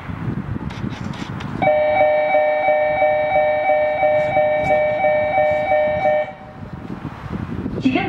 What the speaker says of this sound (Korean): 지금 열차가 들어오고 있습니다.